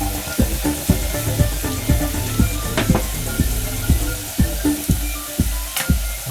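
Chips for fish and chips fry in a hot pan that gets tilted, giving a close, steady sizzle broken by repeated soft knocks and scrapes as the pan moves, with no talking.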